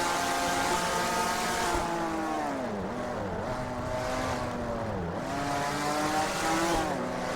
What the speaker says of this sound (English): This car has a great sound.